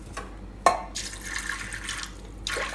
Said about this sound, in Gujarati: આને આપણે કુકરમાં લઈ લેવું ને આમાં પાણી નાખી દેવું થોડુંક